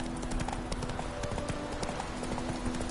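Hooves of the horse Roach clip-clopping at a walk in The Witcher 3: Wild Hunt, a steady rhythmic series of moderate thuds over a low ambient game backdrop.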